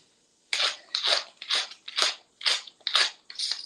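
A pepper grinder cracking black pepper, seven crisp crunchy grinding bursts in an even rhythm, close and clear with no talking.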